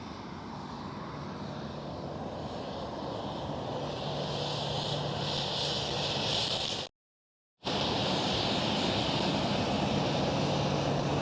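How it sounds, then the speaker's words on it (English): A KLM Boeing 737 followed closely by a KLM Cityhopper E195-E2 at Amsterdam Schiphol, a broad steady engine roar that holds at a loud level, broken by one short total dropout before it resumes. "KLM 737 and right behind it the KLM Cityhopper E195 E2"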